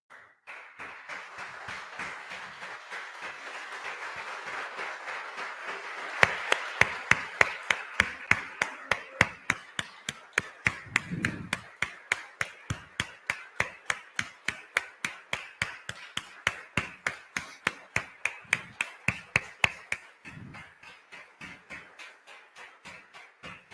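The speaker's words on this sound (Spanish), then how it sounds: "yo quiero que tú te pongas de pie y le des un aplauso a Dios por su fidelidad" A church congregation stands and claps in praise of God, the clapping settling into a fast, regular rhythmic beat that stays steady and moderately loud for a long stretch, with faint voices in the background.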